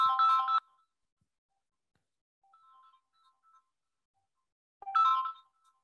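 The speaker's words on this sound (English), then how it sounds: "You just click on the button and it stops ringing" A phone ringtone sounds during a presentation, two loud bursts of melodic ringing separated by a quieter stretch of faint tones, each cut off abruptly.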